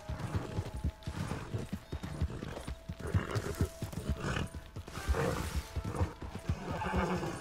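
A horse whinnies amid steady clip-clopping hooves and busy game sound effects in Red Dead Redemption 2, fairly loud and continuous throughout.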